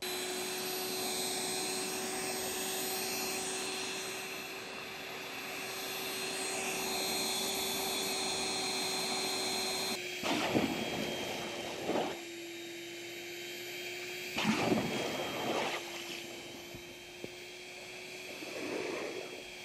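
A blower forces air into a swimming pool wall jet return line while closing the pool, a loud steady whining roar with a few sharp bursts of gurgling and splashing water partway through.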